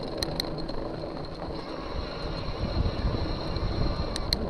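A Biktrix Little Red Rock e-bike motor in second gear pulling up a steep hill, a low steady hum under rumbling wind and road noise with a faint high whine, continuous and close, without speech.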